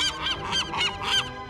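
Seagulls call from near a lighthouse on the sea, a run of about five loud, harsh, nasal squawks in quick succession, clear and close with no talk.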